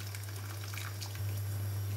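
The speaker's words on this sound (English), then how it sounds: "put some more water in there." Water is poured into a pot of turmeric rice, a soft, steady trickle and gush, with a low hum running underneath.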